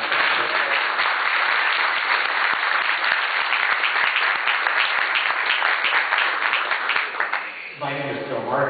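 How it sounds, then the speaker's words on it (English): Audience at a Tea Party political event breaks into sustained, dense applause that fills the room for several seconds, then fades as a voice begins speaking at the end. "So please give a round of applause."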